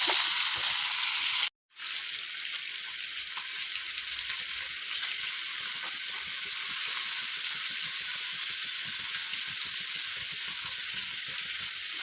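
Continuous hissing sizzle of fish frying in hot oil in a pan, steady and close, with a brief dropout near the start.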